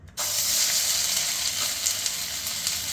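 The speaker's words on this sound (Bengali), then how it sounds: "কেটে নেওয়া কড়াইশুঁটি দিয়ে দিলাম কড়ার মধ্যে" Chopped green peas hit hot ghee with fennel and cumin in a wok, setting off a loud, steady close-up sizzle that bursts in suddenly and hisses on without pause.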